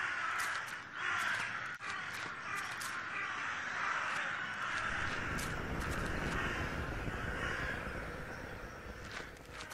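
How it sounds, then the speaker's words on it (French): Crows caw several times in the video game The Last Door, their calls set against a steady, breathy wind-like background of the game's ambience. "Là, on entend les corbeaux."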